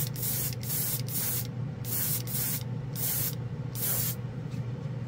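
A Master Airbrush Model G79 3-in-1 sprays acrylic paint to prime a model car, with about eight short, close hissing bursts in a steady rhythm and a low background hum between them.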